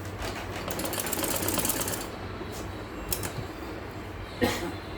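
A sewing machine stitches lace onto a kameez with a fast, steady mechanical whir that eases off halfway, followed by a few short clicks and bumps.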